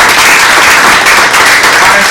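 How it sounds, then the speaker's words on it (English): An audience at a diversity and inclusion event claps in loud, dense, continuous applause throughout, with no voice standing out. "Again, another round of applause."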